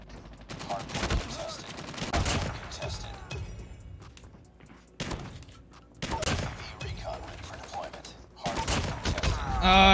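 Bursts of rapid gunfire from a shotgun loadout in Call of Duty Mobile crack out in several loud volleys, separated by brief quieter gaps, with a voice talking over parts of it.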